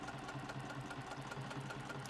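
A Juki sewing machine stitches through fabric binding, running steadily with a fast, even mechanical whir and rhythmic needle thumps, close by and alone.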